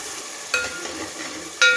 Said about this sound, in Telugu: ఎర్రగడ్డ పేస్ట్ అయితే వేసాం, బాగా ఎర్రగా వేయించుకుందామండి, పచ్చి వాసన పోయడగా